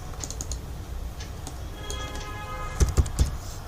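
Keyboard typing while entering a relay part name in a circuit simulation program, a light run of soft clicks building to a few louder, sharper key taps near the end, close and alone.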